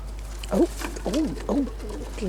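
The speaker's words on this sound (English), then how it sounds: "There are a lot of cooing pigeons at the end, making right old noise." Pigeons coo at the end of a seaside pier in Penarth on a hot day, three or four soft rolling coos close by over a low steady background hum.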